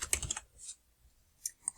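Quick bursts of clicking keystrokes on a computer keyboard, a cluster of taps, a pause, then a few more, close and fairly quiet.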